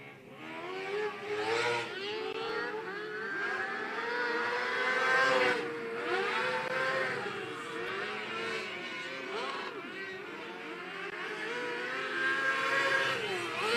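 Race cars on a circuit during a hot lap session, engines droning and rising and falling in pitch as they accelerate and pass, heard at a steady moderate distance with no pauses.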